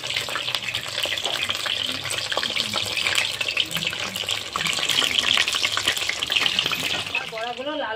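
Shapla bora, fritters made from water lily, sizzle in a pan of hot oil, giving a constant close hiss with fine crackles and spattering bursts that carry on for several seconds before easing near the end.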